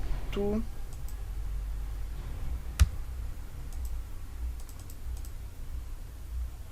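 Key presses and mouse clicks at a computer running an Excel VBA debugger: one sharp close click stands out amid faint scattered taps, with a brief voice near the start.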